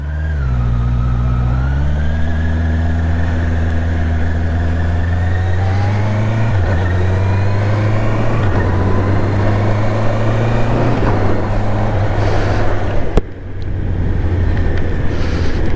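A 2024 Honda CBR650R E-Clutch motorcycle pulls away and rides on, its engine note rising steadily through the gears, loud and close throughout with no talking.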